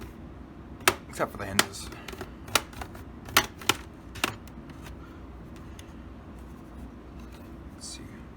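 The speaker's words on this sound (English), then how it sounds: "Nice meaty clicks." Plastic clips on a Dell Latitude laptop cover snap open in a series of sharp, close clicks spaced irregularly, with quiet talk heard alongside.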